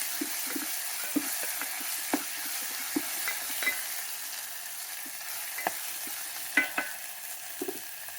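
Spices and dal fry in a pan with a faint, steady sizzle. Scattered small taps and scrapes of a stirring spoon come through at a low level, with no voices.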